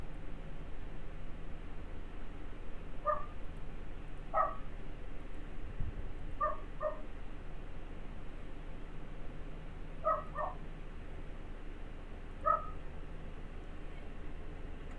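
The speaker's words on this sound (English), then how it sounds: "Those dogs are going at it." Dogs bark in scattered short bursts somewhere off in the distance in the game Fallout, about five or six faint yelps and barks over a steady hiss.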